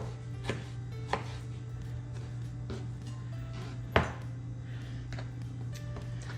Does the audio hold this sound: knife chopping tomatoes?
yes